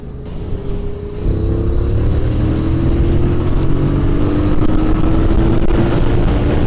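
QJ Motor SRV 550 motorcycle pulling away in fourth gear from about 20 km/h, engine note rising steadily and droning loudly with wind rush, close to the rider.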